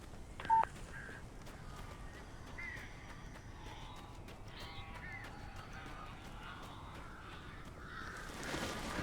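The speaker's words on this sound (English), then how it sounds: "These birds are weird." Crows caw in the horror video game Alan Wake, a few faint, scattered calls spread across a quiet, hissing ambience, with a sharp click near the start.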